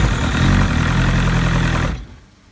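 A 2001 Evinrude 115hp outboard motor cranks and runs with a loud, steady mechanical drone for about two seconds, then cuts off abruptly.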